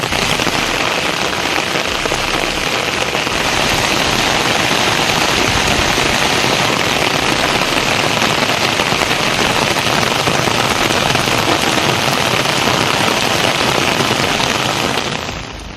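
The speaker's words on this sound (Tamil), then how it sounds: "பல்வேறு பகுதிகளில் 20 நிமிடங்களுக்கு மேலாக கனமழை பெய்தது" Heavy night-time downpour during a thunderstorm in Tamil Nadu, a dense, loud, continuous hiss of rain hammering surfaces without a break, no voices.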